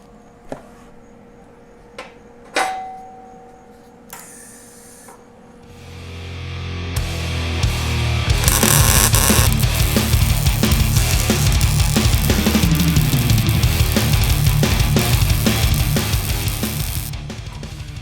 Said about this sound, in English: using the magic of MIG welding, I will stick these two pieces of metal together